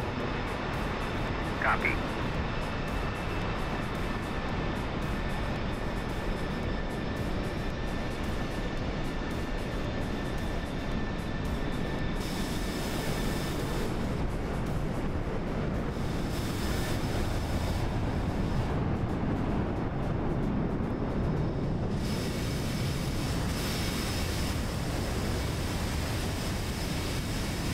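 A jet aircraft takes off in the flight simulator DCS World, a steady broad engine roar that stays constant throughout, with a brief radio voice heard near the start.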